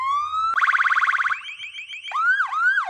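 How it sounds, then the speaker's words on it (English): Electronic sirens on an SUV based on the Cadillac Escalade cycle through several patterns: a steady tone, a rapid pulsing yelp, then swooping wails, loud and close with no talk. "my favorite part are the sirens"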